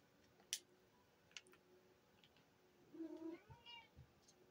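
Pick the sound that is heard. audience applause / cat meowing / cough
cat meowing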